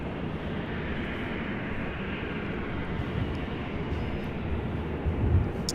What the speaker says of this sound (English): This is Delta Airlines Flight 8 Heavy coming in from Tokyo Haneda on the A330 Neo